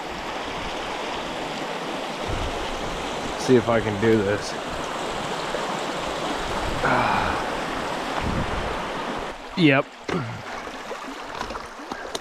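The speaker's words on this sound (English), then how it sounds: "Creek crossings. A little early for creek crossings" A bicycle rolls through a creek crossing during a bikepack race on the Stagecoach 40 in California. Steady rushing flowing water fills the clip, with a few brief splashing bursts, and a rider speaks briefly.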